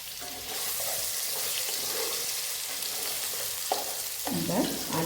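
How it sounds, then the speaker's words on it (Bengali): Potatoes frying in a pan for a Bengali vegetarian dish, a close, steady hiss of sizzling oil with occasional stirring scrapes, a touch louder toward the end. "এর মধ্যে একটু আলুটা একটু ভেজে নিই"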